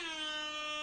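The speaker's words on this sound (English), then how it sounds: "I downloaded an air horn app." Loud air horn blast from a phone app, a single sustained blaring tone with stacked harmonics filling the whole short moment.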